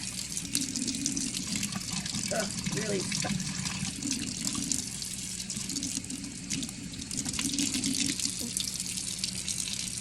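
Water runs steadily into a dirt-clogged plant watering container, a continuous close gush while a person talks over it.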